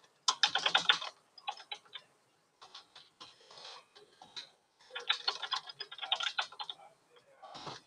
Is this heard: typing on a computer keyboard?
yes